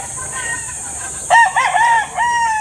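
A gamefowl broodcock rooster at a game farm crows once, close and loud, over a quiet background.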